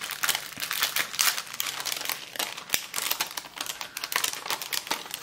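Close, continuous crinkling and rustling of a small plastic sachet being opened to unwrap decorated paperclips, busy and crackly throughout without speech.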